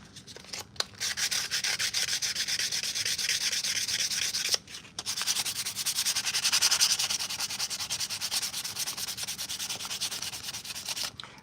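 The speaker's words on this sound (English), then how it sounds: "I'm just sanding this down really to, this is a nice resin piece" Steady, dense rasping of 220 grit sandpaper rubbed back and forth on a hard resin armor piece, close up, with a brief pause midway before the scrubbing resumes.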